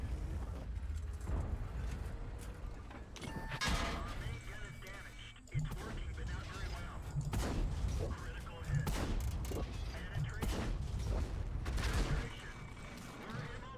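Artillery shells in the World of Tanks video game pound a TVP T 50/51 tank, giving heavy booming impacts and rumbling blasts scattered through the battle, with talk running over much of it.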